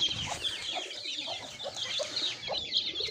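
A hen clucks near her chicks, with soft repeated clucks and high chick peeps chattering steadily up close.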